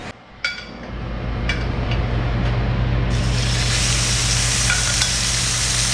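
Squirrel meat, already sous-vide cooked, dropped into hot fat for a hard fry: a sharp splash at the start, then a loud, steady sizzle and crackle that fills the rest of the clip.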